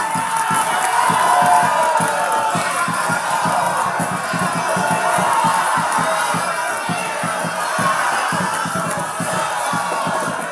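A large audience at a televised South Sumatra gubernatorial debate claps and cheers together, a steady, dense roar of applause with shouts mixed in, lasting the whole stretch without a break.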